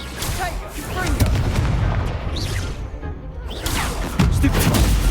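Confringo blasting curse exploding in the Hogwarts Legacy video game, loud booming blasts amid continuous battle noise and spell effects.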